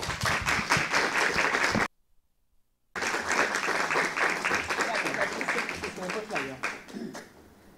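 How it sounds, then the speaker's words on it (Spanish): An audience applauds to welcome a speaker at an open talk in a bookshop, with loud, sustained dense clapping broken by a short gap of silence. Voices and cheers mix in as the applause fades. "les propongo que con un aplauso les demos la bienvenida"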